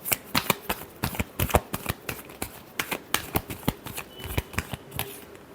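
Tarot cards being shuffled by hand: a rapid run of crisp riffling slaps and flicks, steady and close, filling the whole stretch with no voice over it.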